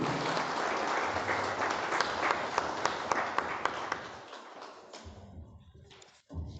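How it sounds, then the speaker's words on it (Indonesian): An audience applauds a speaker at an Indonesian legal review lecture: dense, sustained clapping with a few louder claps that thins and fades out after about five seconds. "Sekali lagi, aplaus untuk narasumber kita malam ini."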